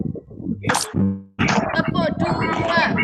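A single sharp clap rings out from children in an online Zoom class, followed by a dense, messy burst of noise and voices over the call.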